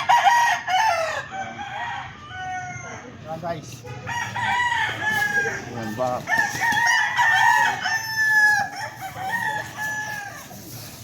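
Roosters crow repeatedly amid clucking chickens, loud and close, while a person speaks briefly in between.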